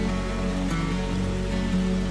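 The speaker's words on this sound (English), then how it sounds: "This rain is Hurricane Fred." Heavy rain from Hurricane Fred in Asheville falls in a steady dense hiss on surfaces, constant and close throughout with no voices.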